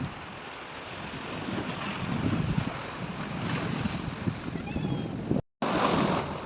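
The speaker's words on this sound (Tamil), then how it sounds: "அலை அடிக்கிறது" Ocean waves crash against big rocks along the shore, a continuous rushing surf roar mixed with wind buffeting the microphone, with a brief dropout near the end.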